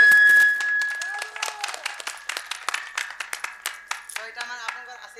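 Audience clapping after a stage magic show, scattered hand claps in uneven bursts from a modest crowd, fairly close, with a steady tone ringing beneath and voices briefly audible.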